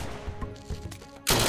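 Gunfire in the game Unturned: a few scattered shots over a busy in-game soundscape, ending in a loud, sustained burst of fire.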